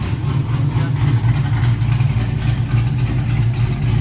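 A cammed Chevy Caprice 6.0L V8 with open long-tube headers and an X-pipe idles close by, a loud, steady, lumpy low rumble with a choppy cam lope throughout.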